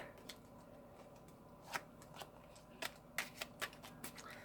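A tarot card deck being shuffled at close range: a series of quick riffling bursts and sharp card snaps at an uneven rhythm over a quiet background, with no talking.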